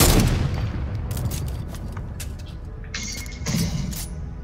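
Gunfire in a shooter video game, a burst of rapid loud shots at the start fading into scattered cracks and a second flurry near the end, close and sharp over a steady game background.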